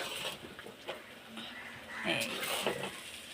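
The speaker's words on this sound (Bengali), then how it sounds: "এবার আমি ভাতটাকে ভেজে নেব।" Rice stir-fried in a pan with carrots, beans, capsicum and slit green chillies, giving a steady close sizzle with a spatula scraping and clinking against the pan, and a few brief louder scrapes near the end.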